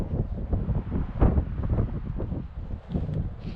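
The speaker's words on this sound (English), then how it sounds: "but it's pretty breezy" Breezy outdoor wind on a sunny day, gusty low rumbling buffets against the microphone rising and falling in loud surges throughout.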